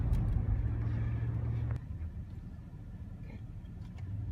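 A car idles in stop-and-go traffic with a low, steady engine rumble and road hum heard from inside the cabin, and a brief change in tone partway through.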